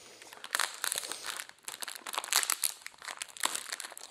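Plastic packaging on a LEGO Ninjago magazine crinkles and tears close up in quick irregular bursts of rustling and crackling, at low volume and with no talking.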